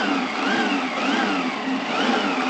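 A boat engine running out of the water with no prop, revving on a cold start and bouncing against its rev limiter in repeated rising and falling surges, steady and close with no talk.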